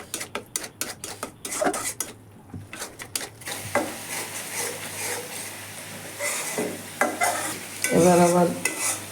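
A spice paste of masala with ground cumin is stirred and fried in a pan while cooking beef trotters (paya), with repeated spoon scrapes and clinks over a steady sizzle, growing louder and busier toward the end.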